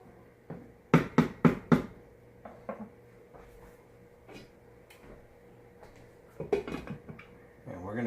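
A metal lid goes onto a pot of Bolognese sauce simmering with wine, giving a few sharp clanks and knocks up close, then quiet kitchen handling and more clattering toward the end.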